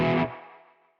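A single distorted electric guitar chord played through a Kuassa Efektor distortion pedal emulation rings out loud and saturated, then is cut short and decays into a fading tail within a second.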